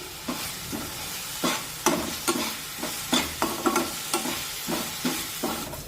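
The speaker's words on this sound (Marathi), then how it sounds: "मिरची तेलामध्ये छानपैकी परतून घेऊया" Green chillies fry in hot oil with a continuous sizzle, while a spoon scrapes and stirs in repeated sharp strokes, close and clear, with no talk.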